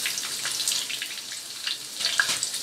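Capsicum hits a pan of onions lightly fried for veg chowmein, setting off a steady hissing sizzle with faint crackles and spits that carry on for the whole moment.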